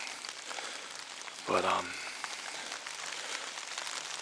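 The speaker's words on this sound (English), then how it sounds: "It's pouring down rain." Heavy rain pours down steadily outdoors in rural Greene County, Pennsylvania woods, a dense constant hiss throughout, with a voice speaking briefly near the middle.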